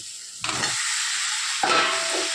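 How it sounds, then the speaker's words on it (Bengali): Fried cauliflower and potato are tossed into cooked spice paste in a pan, with two bursts of sizzling hiss as the pieces are stirred. "এটাকে ভালো করে মশলার সাথে কষিয়ে নেবে।"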